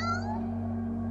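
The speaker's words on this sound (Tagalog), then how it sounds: "Yung pusa." A cat gives one short meow near a backyard house, loud at first and trailing off over a steady low electrical hum.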